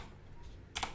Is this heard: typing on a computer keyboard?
yes